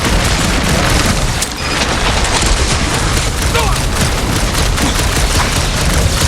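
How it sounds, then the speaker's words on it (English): Guardians of the Galaxy gameplay fills with loud, continuous blaster fire and booming impacts in a chaotic battle, with voices shouting over the barrage. "I'm trying to shoot here!"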